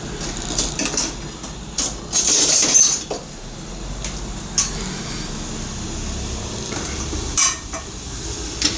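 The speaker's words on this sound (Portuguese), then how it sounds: "A gente vai refogar a cebola até ela ficar transparente." Onion sautés in a pan with fat from meat, a close sizzle broken by frequent spoon scrapes, metallic clinks and pan knocks, uneven and fairly loud, with no voices.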